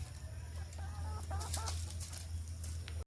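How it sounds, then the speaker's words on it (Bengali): Soft clucking from chickens nearby, a few short calls over a steady low hum. "এই যে মুরগিগুলো সব ছেড়ে দিয়েছি"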